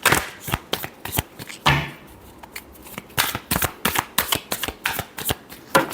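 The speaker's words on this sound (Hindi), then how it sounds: "last shuffle" Tarot cards shuffled by hand in quick crisp riffles and flicks, close and loud, with a short pause midway before the rapid shuffling resumes.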